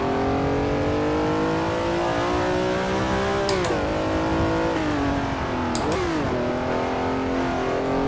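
A Ferrari 330 P4 racing engine in Assetto Corsa revs loudly and continuously, pitch climbing and dropping sharply as gears shift, close and dominant throughout.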